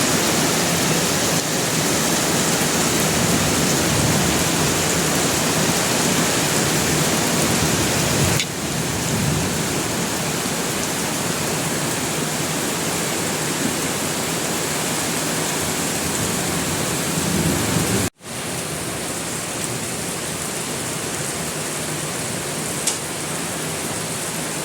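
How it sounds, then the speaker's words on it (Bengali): Steady rain falling outdoors on a hot day, a dense, loud, even hiss that continues throughout with a brief break near the end; no talk. "বৃষ্টির শব্দ, এটা তো আমার কাছে অনেক বেশি ভালো লাগে।"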